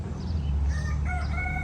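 Chickens at a ranch call out, with a brief rooster-like crow rising near the end over a low rumbling background.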